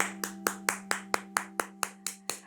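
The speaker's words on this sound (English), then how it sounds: "Give yourself a big clap." About eleven evenly spaced hand claps ring out in a steady beat over a sustained musical backing tone, each clap sharp and close.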